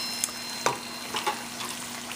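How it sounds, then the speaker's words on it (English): Cream cheese wontons fry in oil over medium-high heat, giving a steady soft sizzle with a few brief crackling pops, close and moderately quiet, with no talking. "I've got my cheese wontons frying up over here"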